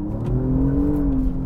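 Alfa Romeo Giulia GTAm sports car accelerating on an open road, a steady, loud engine drone with rising harmonics and a smooth, continuous pull throughout.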